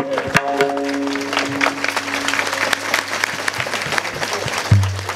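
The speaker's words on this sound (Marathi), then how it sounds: "यासाठी टाळी वाजवावी" An audience claps throughout a Marathi Hindu kirtan, a dense, continuous patter of many hands that swells briefly near the end, with some low background tones under it.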